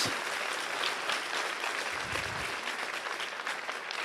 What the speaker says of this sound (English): you can clap very loudly now